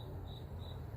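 Crickets chirp steadily and densely over a low background rumble, their many calls blending into one continuous pulsing trill.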